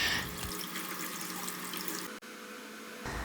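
Cold tap water streams steadily from a faucet over hot boiled eggs in a kitchen sink, a continuous hissing splash with a brief interruption near the end, no voices.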